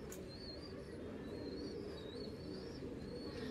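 Pigeons of a Punjabi Malwai bloodline coo in low, continuous murmuring rounds, with a faint high whistle-like call drifting above at a steady, close level.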